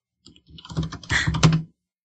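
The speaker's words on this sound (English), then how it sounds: "sorry, I'm typing up the next topic." Computer keyboard typing, a quick burst of several keystrokes and clacks, close and moderately loud, alone with no talking.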